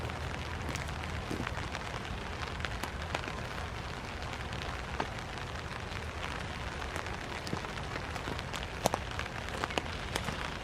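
Steady rain falling around an overnight hammock camp, a soft continuous patter with scattered sharper drops tapping nearby, fairly quiet and unbroken, no one speaking.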